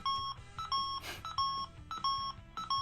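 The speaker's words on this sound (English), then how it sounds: "like a transmission sound" Electronic beeping tones from a toy transformation device, a repeating pattern of short bright beeps with brief gaps and a noisy burst in the middle, loud and close with no talking.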